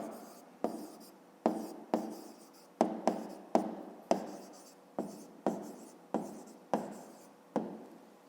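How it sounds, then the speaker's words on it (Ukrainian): A pen writes an answer by hand on paper, making a run of about a dozen close, crisp scratching strokes, each starting with a sharp tap and trailing off, alone with no talk. "Пишемо відповідь."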